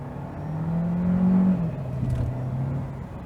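A Renault Clio with an automatic gearbox accelerates on kickdown, its engine droning and rising in pitch, dipping briefly at a gear change, then pulling on steadily, heard from inside the car.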